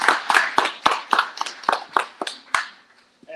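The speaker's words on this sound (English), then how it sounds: "give Josh a round of applause" A small audience at a brake and lamp class graduation claps steadily for about three seconds, distinct individual claps close by, thinning out before a brief pause and a final faint sound.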